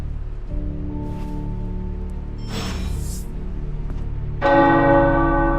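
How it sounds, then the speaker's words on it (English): Church tower bells in the video game Marvel's Midnight Suns ring out in a sustained, resonant peal, joined partway through by a louder, brighter bell, over a steady low rumble. "The tower bells are ringing."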